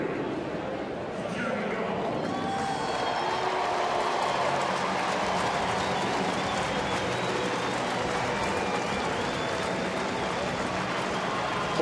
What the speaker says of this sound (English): Polite round of applause, I guess the best way to describe it.